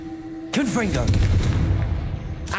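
A Confringo blasting curse goes off in Hogwarts Legacy with a sudden sharp burst and crackling rumble, mixed with a voice shouting over it, and another burst begins at the very end.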